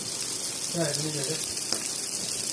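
Fish fries in a pan with a constant bright sizzling hiss, close and even throughout, while a voice briefly murmurs near the middle.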